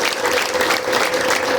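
Steady audience applause fills a church sermon hall, a dense unbroken clatter of many hands clapping at fairly close range with no voices over it.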